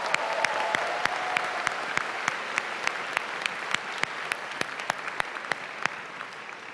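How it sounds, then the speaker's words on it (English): Sustained applause from a graduation ceremony audience at the Johns Hopkins Carey Business School summer graduation, a dense steady wash of many hands with sharp individual claps standing out throughout. "so let's give ourselves a little applause."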